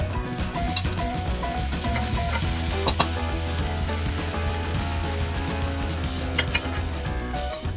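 Marinade oil sizzles and crackles in a frying pan on medium-high heat before tuna steak is added, a steady close hiss with scattered pops throughout, no voices.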